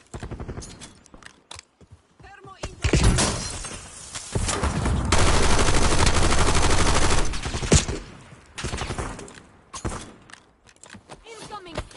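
Gunfire in Call of Duty Warzone on the Verdansk map bursts in loud, rapid automatic volleys and sharp single shots. A long sustained roar of fire sits in the middle, with shouted voices in between.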